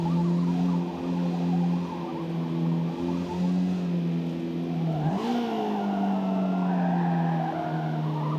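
Race car engine in Forza Motorsport holding a steady high drone, then a sharp dip and tire scrub as the rear tire runs onto the grass, with the revs recovering afterward, close and continuous.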